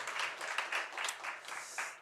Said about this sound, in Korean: 우리 함께 영광의 박수 올려드리겠습니다.